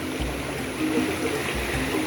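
A small river stream flows nearby with a continuous, even gurgle and rush of water. The sound stays steady from start to finish.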